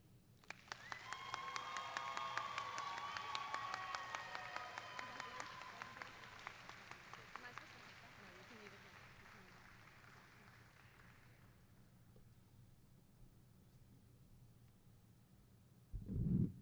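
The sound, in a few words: audience applauding student speakers at a high school graduation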